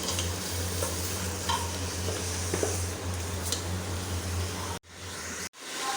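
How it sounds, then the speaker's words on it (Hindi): Meat fries for haleem in a large pot, a loud continuous sizzle with a low rumbling undertone and occasional stirring scrapes, cut off abruptly twice near the end. "गोश्त को इतना भून लेना है मैंने कि इसका कलर वाइट हो जाए"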